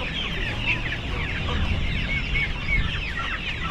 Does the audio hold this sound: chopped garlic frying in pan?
no